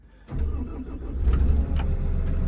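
A new Develon DX63-7 excavator's heavy diesel engine cranks and catches, then settles into a deep, steady rumbling idle close by.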